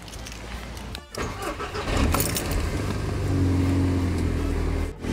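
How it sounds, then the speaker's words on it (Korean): A car engine cranks and starts on a replacement lithium iron phosphate starter battery, a brief crank followed by a steady, loud idle close by, with a faint jingle of keys near the start. "한번 시동을 한번 걸어보겠습니다."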